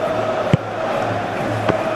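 A steady, moderate stadium crowd murmur fills an eFootball PES 21 match, a continuous broad hum with a couple of brief sharp knocks rising out of it.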